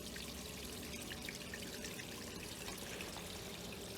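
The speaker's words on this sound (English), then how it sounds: "So the water is coming from this grow bed and going back into the fish pond." Water pours from an aquaponics grow bed back down into a fish pond, a steady close trickling and splashing stream that runs evenly throughout with no talking.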